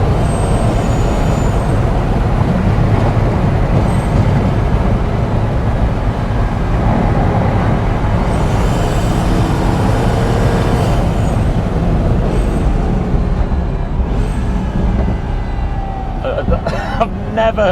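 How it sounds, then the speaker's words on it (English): A loud, close Pagani Huayra Roadster engine roars steadily for a long stretch, deep and rumbling, with occasional hissing bursts and a voice in the background. "I've never heard a car like that before."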